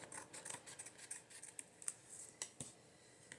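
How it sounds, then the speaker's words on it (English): Scissors snip a thin sliver off a craft card in a quick series of small, crisp cuts, quiet and close, with irregular pauses between snips. "So I've got a little sliver of paper I need to cut off."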